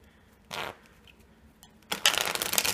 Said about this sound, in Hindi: और कुछ ऐसे भी शफल कर देते हैं।